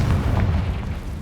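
A Confringo blasting spell impact in Hogwarts Legacy, cast at a cave entrance: a deep, booming low rumble that swells and rolls on steadily for over a second, loud and close with no talk.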